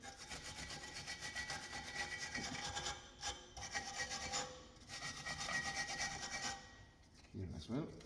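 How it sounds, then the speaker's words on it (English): Brake pad seat on the rear brake of a Mercedes C350e being cleaned, a faint, steady rubbing and scraping of a tool against metal with short pauses. "don't forget to clean up the space where the brake pad is working"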